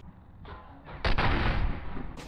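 Gunfire from the video game Metro Exodus: several sharp, loud shots and blasts starting around half a second in, then a dense, rumbling volley that carries on to the end with no talk over it.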